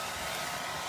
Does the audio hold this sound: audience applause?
no